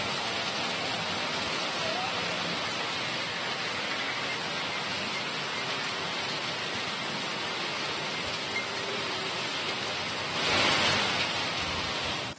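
Heavy rain pours down in Karnataka, around Bengaluru: a dense, unbroken hiss of falling water that holds steady for about twelve seconds and swells slightly near the end.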